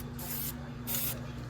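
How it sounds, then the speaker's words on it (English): Weld-through primer sprayed from an aerosol can onto a Bumpside crew cab truck's replacement cab corner in a metal shop: two short, hissing bursts close by over a steady low hum. "let's spray it from the other side as well"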